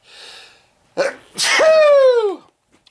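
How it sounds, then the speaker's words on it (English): A single loud sneeze, set off by breathing in while shaking pepper over camping food, comes after a soft breathy intake and a sharp gasp. It ends in a drawn-out, falling voiced cry, close to the microphone and without other talk. "if you breathe through your nose while you're shaking pepper, you're sure to sneeze"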